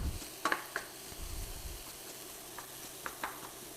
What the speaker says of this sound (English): we're just going to cook that for just a couple of minutes, just to seal off the onion and the garlic